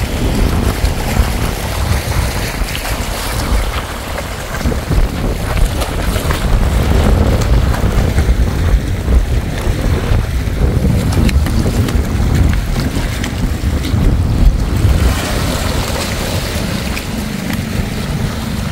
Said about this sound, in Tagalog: Pagmasdan natin ang mga hampas ng alon